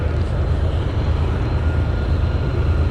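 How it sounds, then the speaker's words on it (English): A heavy, loud rumble of a train passing a campsite near Glacier National Park fills the air, a dense low roar with no breaks and no voices. "a train is coming right now"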